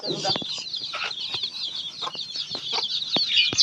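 A hen clucks repeatedly in short, rhythmic bursts, close by, with faint chirps from small chicks and a person's voice briefly in the background.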